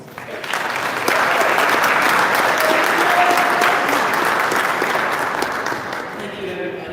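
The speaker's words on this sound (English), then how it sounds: "Please give Lily a generous hand of applause" Applause rises from an audience at a high school debate during a governor primary event, swelling quickly into sustained, full clapping and tapering near the end.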